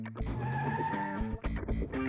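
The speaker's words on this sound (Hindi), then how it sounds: "अरे ड्राइवर, गाड़ी यहीं रोक दो।" A car brakes to a stop with tires squealing, a loud sustained screech followed by a few shorter bursts of skidding as it halts.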